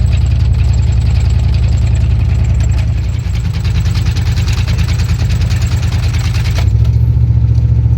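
A 1997 Dodge Ram truck engine drones loud and close while driving, straining and knocking with a rough, uneven rumble that wavers midway and shifts tone near the end, suggesting trouble with fourth gear.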